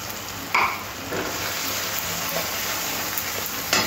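A spice paste of Kashmiri chilli powder, green chillies, ginger, garlic and cashew paste sizzles steadily in a pan for chicken maharani, a close, even hiss with a couple of brief crackles and no talking.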